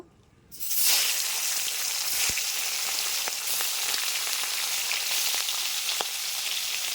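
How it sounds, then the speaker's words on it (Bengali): Fish hisses and sizzles loudly in hot oil, erupting suddenly after a brief quiet moment and then crackling steadily without pause. No voices. "তেলটা গরম হয়ে গেছে এবার মাছগুলো ছেড়ে দেব"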